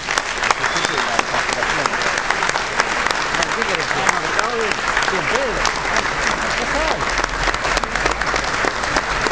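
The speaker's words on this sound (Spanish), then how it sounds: "me parece que todos ellos merecen un fuerte aplauso" Loud, continuous crowd applause at the inauguration of a national party headquarters in Uruguay, thick and unbroken, with shouting and cheering voices mixed through the clapping.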